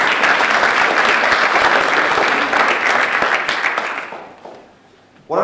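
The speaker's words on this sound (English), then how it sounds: "We should give him a round of applause" Audience applause after a talk on construction industry challenges, loud and dense sustained clapping for about four seconds, then tapering off before a sharp burst at the end.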